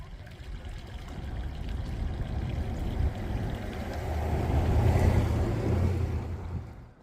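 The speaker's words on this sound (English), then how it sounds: "Creek's fairly dry, but it is running a bit." A shallow, fairly dry creek trickles steadily near the Marshall Gulch trailhead on the Arizona Trail, a continuous low wash of running water that swells slightly toward the end, with no voices.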